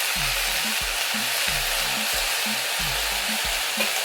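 Safflower greens sizzle as they steam in a hot pan, a loud continuous frying hiss with low repeating stirring scrapes pulsing beneath it.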